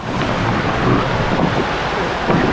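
Heavy rain pours down in a dense, steady roar over a rock cave in the Konkan countryside, with wind buffeting and a low rumble underneath.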